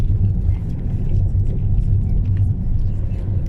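A car drives along a road into hilly African countryside, its engine a steady low rumble close by with road noise throughout and no talking.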